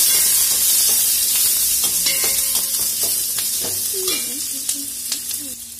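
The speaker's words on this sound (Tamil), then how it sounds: "இது நல்லா ஃப்ரை ஆகட்டும்." Garlic and green chillies fry in a pan with a steady sizzling hiss, accompanied by occasional stirring clicks and scrapes, close and fairly loud.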